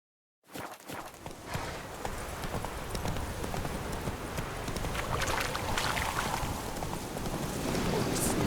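Roach the horse in The Witcher 3, hooves clattering in a fast, continuous gallop, close and growing slightly louder, with faint talk underneath.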